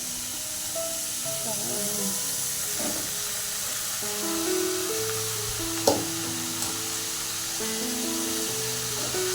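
Vegetables frying in a pan with a continuous hissing sizzle and occasional stirring knocks, while voices murmur in the background.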